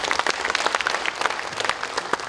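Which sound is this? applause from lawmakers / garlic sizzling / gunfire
applause from lawmakers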